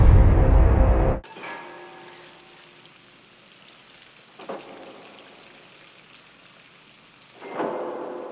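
Heavy rain pours steadily through a stormy night, with a loud rumble at the very start and a couple of softer thunder swells later, alone and continuous.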